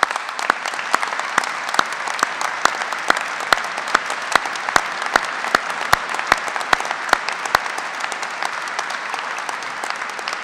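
Graduates are applauded at a university honorary degree ceremony, a sustained wash of crowd clapping with one nearby clapper giving sharp, evenly spaced claps above it.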